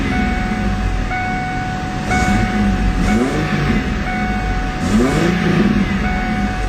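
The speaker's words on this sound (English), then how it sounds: "Let's go ahead and rev it a couple times just to give you a feeling of how that V6 will sound" A 1998 Ford Mustang V6 with a 5-speed, revved a few times while parked: loud, close engine rising and falling in two or three swells over a steady idle, with no talking.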